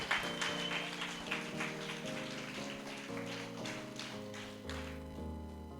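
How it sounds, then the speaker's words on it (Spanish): A church congregation claps together steadily for several seconds, a dense patter of hands over organ or keyboard chords. "Démosle un aplauso a los que somos redimidos."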